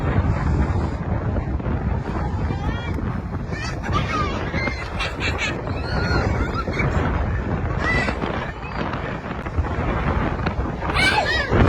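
Steady, loud wind buffeting the microphone outdoors by a creek in Casiguran, a continuous rumbling roar with gusts throughout.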